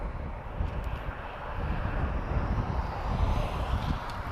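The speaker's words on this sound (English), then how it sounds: "She's just arriving from Funchal Madeira, A320." An EasyJet Airbus A320 arrives at Lisbon Airport on a windy day, its steady engine roar blending with broadband wind rumble at fairly constant loudness, no voices present.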